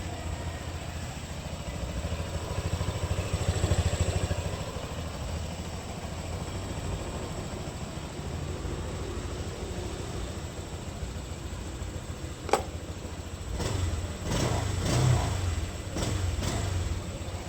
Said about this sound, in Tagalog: Nabuksan niya yung makina guys.